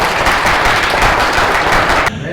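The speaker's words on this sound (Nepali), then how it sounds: "परमेश्वर ताली बजाइदिनुहोस् न" A church congregation claps together during a sermon, a loud, dense burst of many hands that runs for about two seconds and then cuts off abruptly.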